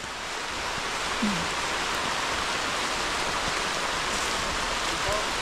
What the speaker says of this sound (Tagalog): Umulan ho.